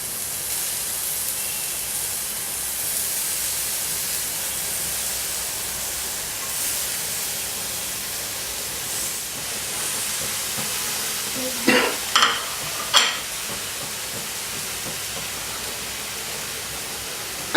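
Cherry tomatoes caramelizing face down in sugar in a pan over medium heat: a constant hissing sizzle for the whole stretch, with a brief cluster of utensil taps near the end, no voices.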